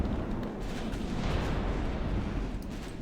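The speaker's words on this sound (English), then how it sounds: "somehow my guns are still shooting" Naval guns fire in a steady barrage during a German warship battle in the game Ultimate Admiral Dreadnoughts, a dense, continuous rumble of booms with no single shot standing out.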